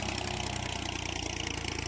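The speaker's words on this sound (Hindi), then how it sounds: "ये आ गया ट्रैक्टर भाई साहब।" A tractor engine idles steadily in a field at night, a continuous even mechanical drone with no talk over it.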